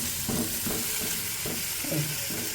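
Cauliflower florets fry in a small amount of oil, giving a steady close-up sizzle with soft stirring scrapes throughout.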